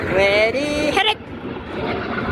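US Navy Blue Angels jets at the 2024 Wings Over Houston airshow make a steady, broad roar that fills the clip, with a voice talking over its opening second.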